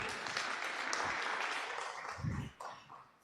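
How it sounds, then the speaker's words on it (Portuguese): A burst of audience clapping at a business talk on 2025 planning fills the room, fading toward the end with a few scattered claps. "Uma salva de palmas aqui para o meu amigo."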